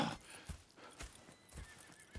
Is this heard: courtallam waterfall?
no